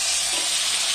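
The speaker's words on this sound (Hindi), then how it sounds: "मैंने 2 कढ़ाई चढ़ाए, एक पे मैं आलू रखूंगी फ्राई करने।" Potatoes frying in hot oil in a kadhai, a loud, steady bright sizzle that holds evenly for a brief moment with no voices.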